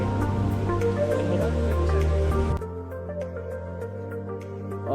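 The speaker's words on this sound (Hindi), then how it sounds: "ये झरना, ये पहाड़" Birthi waterfall in the hills of Uttarakhand, near Munsiyari, rumbling as a steady broadband roar of falling water that softens partway through, with a tonal musical layer running underneath.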